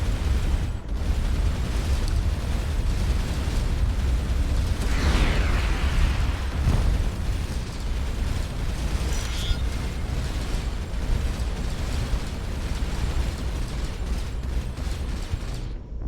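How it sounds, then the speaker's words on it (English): Flak cannons fire in Starcom: Unknown Space, a continuous stream of dense, crackling bursts and booms over a steady mechanical rumble, loud and sustained throughout. "He almost killed me with those flak cannons."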